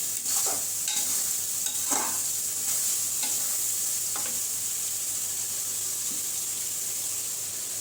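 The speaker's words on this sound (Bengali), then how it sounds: "আমি এখন এর ভিতর মাংসটা দিয়ে দিব" Meat goes into a pan of fried spice masala, sizzling steadily with a continuous hiss while a spoon scrapes and stirs in a few distinct strokes, close and alone with no talk.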